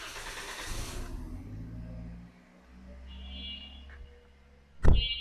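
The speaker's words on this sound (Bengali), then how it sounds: "বাইরে থেকে আওয়াজটা শুনি, ইঞ্জিন সাউন্ড কেমন।" A 2011 Kia Picanto automatic idling, heard from outside the car: a steady low engine hum that dips and returns, with a sharp louder knock or thump near the end.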